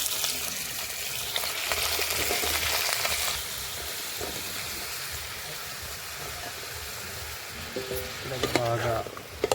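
Cut broad beans hit hot tempering oil in a pan over a wood-fired stove, giving a loud, steady sizzle that settles into quieter frying with occasional stirring clatter and faint voices.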